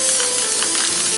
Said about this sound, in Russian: Ну вот еще покрыл лаком. Тоже с баллончика.